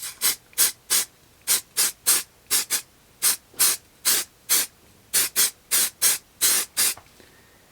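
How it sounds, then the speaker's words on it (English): A spray can of mold release is fired in short, even bursts over a fish fin casting mold, roughly twenty sharp hissing puffs in steady rhythm, close and loud with no talking. "I'm just going to kind of spray a coat on here"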